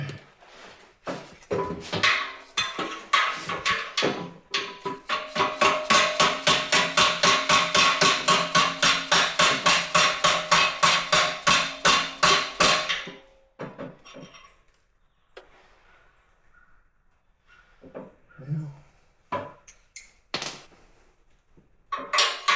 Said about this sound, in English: Kind of an awkward hammering angle, to be honest.